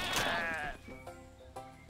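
A goat in Goat Simulator 3 lets out one loud, wavering bleat up close, followed by faint clicks and quiet background sound.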